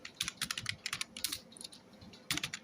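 Quick, light keystrokes on a computer keyboard come in short clustered bursts with brief pauses, soft and close with no voices.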